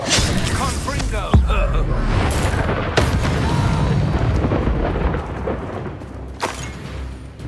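A Confringo fire spell explodes in the Hogwarts Legacy video game with a sharp booming blast followed by a rumbling roar, a second thud, and a fading rumble with another hit near the end.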